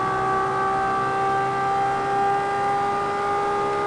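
A race car engine in the video game Project Cars 2 holds a high, steady whine at sustained revs, the only car on an oval track, with no talk over it.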